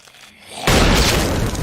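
A sudden, loud gunshot boom inside a tank, a film effect, bursts in after a brief low hum, followed by a sustained, harsh ringing roar that fills the space.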